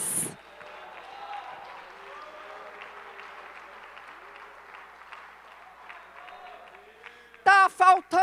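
A church congregation claps softly and steadily beneath voices during a Portuguese-language service, ending in a few loud, abrupt shouts.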